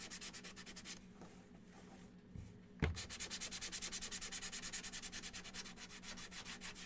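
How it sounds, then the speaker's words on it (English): Sandpaper rubbed over painted wooden shelf sitters to distress them. After a few scattered scrapes and a knock, close, steady back-and-forth strokes settle into an even rhythm, with no voices. "Let's do some distressing now. Let's sand it down."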